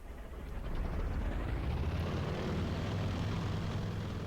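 An aircraft engine in the IL-2 1946 flight game throttles up, with a low propeller drone swelling over the first second and then holding as a loud, steady roar.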